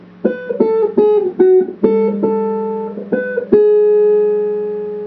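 A short guitar melody from the Elfen Lied opening, about a dozen single plucked notes picked one after another and left ringing, with the final note sustaining and fading.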